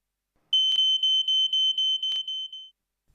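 An Ei Electronics multi-sensor fire alarm sounds loud and close, a rapid run of about nine shrill, evenly spaced beeps that then stops abruptly.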